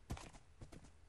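Horse hooves clip-clop in the video game Minecraft, a few quick soft thuds in an uneven trotting rhythm, close and fairly quiet.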